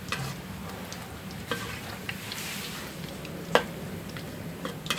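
Banana blossom and minced pork fritters deep-frying in oil, a steady bubbling sizzle with occasional sharper pops and crackles, close and continuous with no talking.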